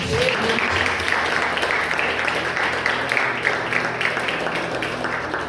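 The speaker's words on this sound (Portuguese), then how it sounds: "E você dá um aplauso ao Senhor." Church congregation applauding the Lord during a sermon, a dense sustained wash of clapping that stays steady and fairly loud throughout, with faint voices mixed in underneath.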